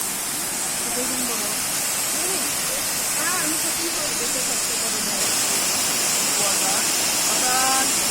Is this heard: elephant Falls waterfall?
yes